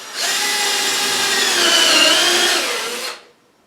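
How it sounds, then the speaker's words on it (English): A power drill with a countersink bit spins up and bores into a toilet flange during a rusted metal-to-plastic flange replacement, a loud sustained whine for about three seconds that rises slightly mid-cut, then cuts off abruptly into silence. "I'm going to take a countersink drill bit"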